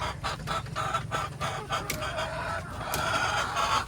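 Backyard chickens, hens near laying age, clucking steadily amid a busy coop chorus, with bursts of higher calls and low rumbling throughout; no clear talk.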